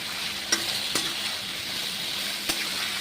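Potatoes fry in mustard oil, sizzling steadily and loudly in a pan, with a few sharp taps of a utensil against the pot.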